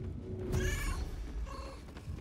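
A cat meows in the video game Baldur's Gate 3, two short, tonal calls at moderate volume with a pause between them.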